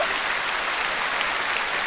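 Studio audience at a Korean TV singing-contest broadcast applauds in a continuous, dense, even patter of many hands, steady and moderately loud from start to finish.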